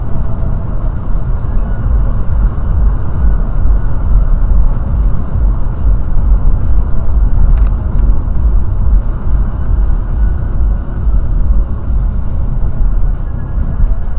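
A Chevrolet Cruze turbo running on ethanol cruises at about 160–170 km/h, giving a loud, steady, deep road-and-engine rumble with a constant wind roar throughout and no speech.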